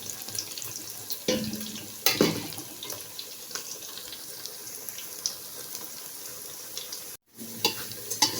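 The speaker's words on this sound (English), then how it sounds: "allow this to fry properly" Meat frying in a pot for Nigerian party jollof rice, a continuous close sizzle with a few louder stirring scrapes and a brief break near the end, no talking.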